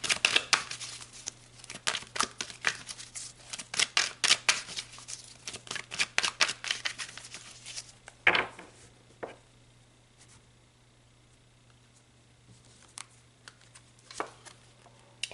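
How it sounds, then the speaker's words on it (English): Tarot cards shuffled and pulled during a pick-a-card reading, a dense burst of close riffling and snapping card sounds for about eight seconds, then a few soft isolated card taps and slides in near silence. "Let's pull some more cards."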